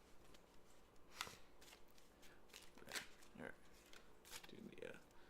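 Tarot cards being shuffled by hand give a string of quick, soft riffling and slapping bursts, close but quiet, with a few pauses between runs.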